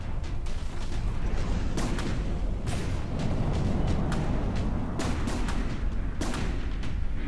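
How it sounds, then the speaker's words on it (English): Torpedoes fire in the naval combat game From The Depths, sounding as a dense, rumbling barrage of repeated sharp booms and bursts over a constant low roar, with no voices. "It's still firing those torpedoes though, and those torpedoes are against these smaller craft quite deadly."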